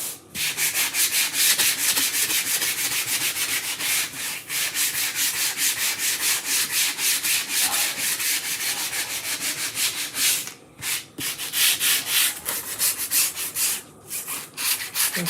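A sanding block lightly rubbing over chalk artwork, making steady rhythmic back-and-forth scratchy strokes, close and continuous with only brief pauses.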